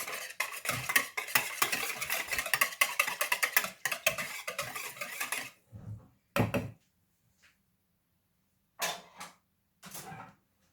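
A spoon scrapes and clinks rapidly against a bowl while salt, paprika and fresh black pepper are stirred together, a busy close clatter for about five seconds followed by a few scattered knocks.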